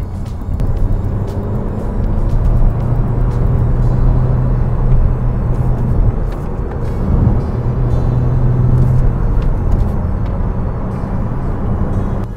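Steady engine and road rumble from a 2017 Vauxhall Insignia Grand Sport being driven through corners on an uneven road, heard from inside the cabin as a continuous moderate drone with no talk.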